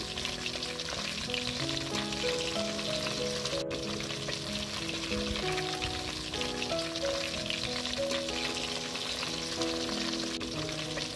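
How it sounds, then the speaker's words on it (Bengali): Fish fry in hot oil in a wok with a steady, dense sizzle and crackle that holds evenly throughout, with no voices. "এখানে মাছগুলো আমি লাল লাল করে ভেজে নেব"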